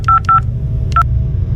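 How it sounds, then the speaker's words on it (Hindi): A phone is dialled to call a brother from a deserted bus stop at night: three quick touch-tone beeps, a short pause, then one more, sharp and close over a low steady background hum. "विजय थोड़ी देर ऑटो का इंतजार करके अपने भाई को फोन लगाता है।"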